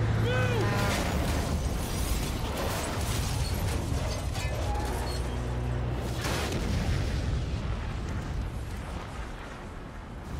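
Explosions in the video game Marvel's Spider-Man Remastered: dense, continuous rumbling blasts and crashing debris fill the whole stretch, loud and close with little letup, fading slightly toward the end.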